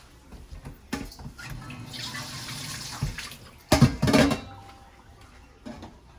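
Water pours steadily from a tap into a cooking pot for a big outdoor-style cook-up, a continuous rushing hiss for a couple of seconds, then metallic clatters and knocks of the pot near the end.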